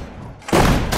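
Sudden loud burst of gunfire in a Sudden Strike 4 battle at Dunkirk, breaking in after a quiet moment and filling the rest of the short moment with dense, close shots.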